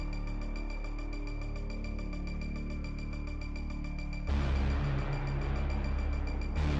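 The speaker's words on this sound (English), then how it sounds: "You hear that ominous music in the background?" Ominous background music plays: a dark, sustained drone with a fast rhythmic pulse, then it swells abruptly louder and heavier partway through. No one speaks.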